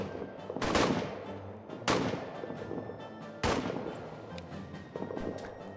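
Gunfire in All Quiet in the Trenches, a World War trench game: several sharp rifle shots at irregular intervals, each with a short booming tail, over a low background of distant battle and no talk.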